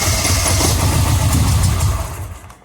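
A Mini Cooper S with a high-pressure fuel pump fault cranks steadily without catching, its rhythmic starter churn loud and continuous for about two seconds before cutting off.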